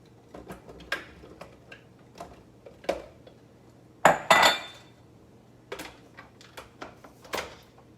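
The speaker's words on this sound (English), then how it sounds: "So now we're gonna start dropping some of this into the food processor." Pieces dropped a few at a time into a food processor bowl, a series of sharp close clinks and ticks at irregular intervals, no talking.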